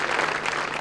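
A big crowd at a Kookaburras versus India hockey match applauds a player's 200th cap, dense continuous clapping filling the short stretch, loud and sustained without speech on top.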